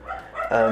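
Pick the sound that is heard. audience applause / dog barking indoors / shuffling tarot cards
dog barking indoors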